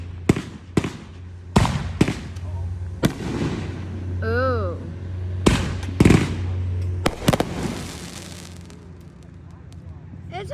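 Fireworks going off in a neighborhood, a run of sharp, loud bangs spaced a second or so apart, with a whistling rocket partway through and people reacting and chatting between the blasts.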